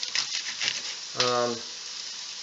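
Jalapeno bacon-wrapped pork chops sizzle steadily as they brown in a pan, a constant close frying hiss that runs under a short burst of voice.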